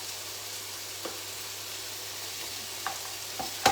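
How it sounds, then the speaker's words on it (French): Carrot strips cut into thick ribbons sizzle softly in a frying pan, a low steady crackle broken by a few light stirring knocks, with no voices. "en grosses lanières pour les faire cuire du coup à la poêle"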